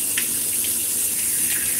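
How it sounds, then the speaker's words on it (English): Water runs steadily from a tap, a constant hissing stream heard up close for the whole moment, with a few faint splashes and no talking over it. "I gotta put my hand under some cold water"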